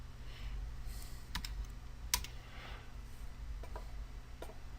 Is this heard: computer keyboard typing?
yes